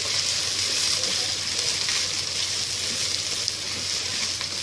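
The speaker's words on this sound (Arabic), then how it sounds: "ونقلب الرز كويس جدا مع الماده الدهنيه علشان يبقى مفلفل معايا وحلو قوي" Rice with vermicelli fries and is stirred in fat, giving a loud, steady, close sizzle with faint scraping underneath.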